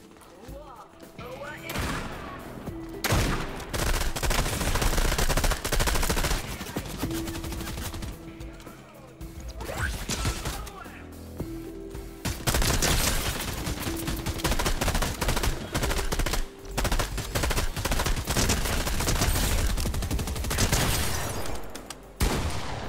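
Rapid bursts of gunfire crackle from behind the players in a Fortnite match, loud and repeated over about twenty seconds with short lulls, while voices talk over the shooting.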